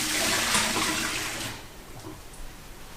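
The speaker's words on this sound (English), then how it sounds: "I'm also gonna pour out some of the water" Water poured out of a full pot of boiled potatoes, a gushing splash for about a second and a half, then thinning to a faint trickle, close by.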